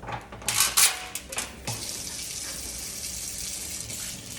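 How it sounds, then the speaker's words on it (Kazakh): Water gushes from a tap into a tub, a steady rushing stream with a few brief splashes and clatters at the start, heard close and alone. "осы ваннаға саламыз да су толтырамыз"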